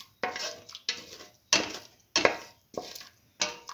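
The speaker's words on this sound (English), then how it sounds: "Mix the mixture thoroughly in the water" Rice and egg mixture stirred in water in a pan, a series of six distinct scraping, clinking strokes of a utensil against the pan, close and fairly loud with short pauses between.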